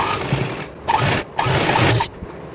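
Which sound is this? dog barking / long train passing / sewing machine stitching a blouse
sewing machine stitching a blouse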